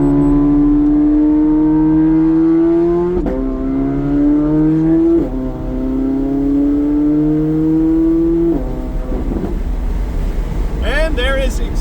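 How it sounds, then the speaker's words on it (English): Modified C8 Corvette Z06 engine revving hard and pulling through several upshifts, each gear climbing steadily before a brief break, loud and close with a faint voice underneath. "the car just downshifted by itself. Even it wants to go right now."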